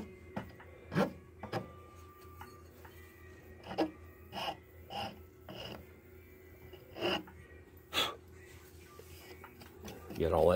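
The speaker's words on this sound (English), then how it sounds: "Well, basically you just start rasping it." Hand rasping of a wooden knife handle, shaped without power tools: a series of separate, fairly close scraping strokes in an irregular rhythm, each a short rough burst with pauses between.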